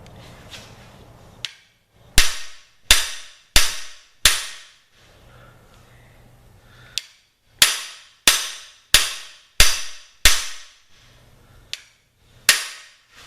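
Sharp, loud metal-on-metal hammer blows drive a cam bearing into the block of a big block Chevy 396 engine, struck in quick bursts of three or four evenly spaced hits with short pauses between, each ringing briefly.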